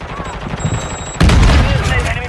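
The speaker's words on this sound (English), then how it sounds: "Somebody shot at me." Gunfire in a video game bursts in loudly after a quieter first second, a dense, continuous volley of shots filling the rest of the moment.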